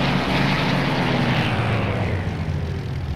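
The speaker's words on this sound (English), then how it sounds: "you can hear that thing spluttering and losing power" In a flight simulator game, a Spitfire Mark I's propeller engine drones loudly as it comes under negative G, the roar thinning and faltering slightly toward the end, with no voice over it.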